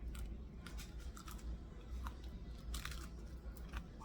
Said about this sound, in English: if you want to hear how crunchy they are